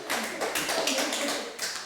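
A room of students at a school debate contest gives short, fairly faint applause, a quick scatter of claps lasting under two seconds.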